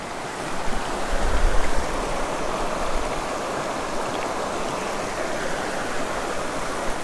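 Mountain creek water rushes steadily over rocks in a small trout stream, a close, continuous broadband flow with a slight low rumble near the start and no voices.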